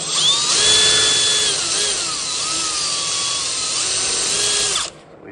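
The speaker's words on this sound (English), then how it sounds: "I don't want it walking around on my worktop as I drill through it" A power drill whines steadily as it bores through a cover plate for a 240V receptacle, pitch shifting under load, then stops abruptly near the end.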